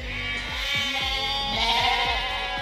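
Sheep bleating repeatedly in a grassless field along an English pilgrimage footpath, a run of close, overlapping moaning calls from several animals in a steady rhythm with no talking.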